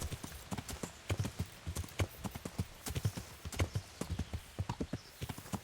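Rapid horse hooves clopping in a steady galloping rhythm, close and fairly loud, with no talking over it, from the video game Kingdom Come: Deliverance.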